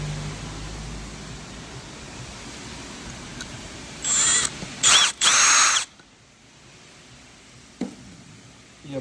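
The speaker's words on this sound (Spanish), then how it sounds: "Estamos haciendo los agujeros ya." A power drill bores holes in the exhaust of a 2018 Jeep Compass with an exhaust leak, three short close bursts of high whirring drilling separated by brief gaps, then a faint click over quiet garage background.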